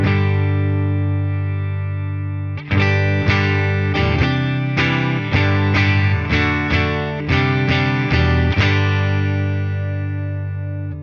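Electric guitar through a Tone King Imperial preamp pedal with the treble turned all the way down, sounding dark and warm: one sustained chord rings out, then a run of rhythmic strummed chords that lasts about eight seconds.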